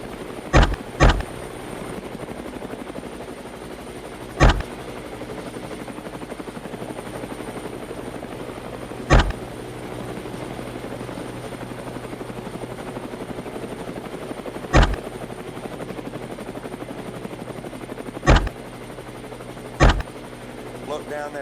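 A helicopter flies low over forest with a steady, close rotor and engine drone throughout, punctuated by several sharp, loud bangs at irregular intervals; a voice speaks over it.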